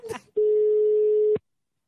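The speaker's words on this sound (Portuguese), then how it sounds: "Carlinhos, eu vou ligar pra Orlandina" A single long telephone ring tone on an outgoing call, a steady pure tone lasting about a second after a brief burst of noise, clear and alone.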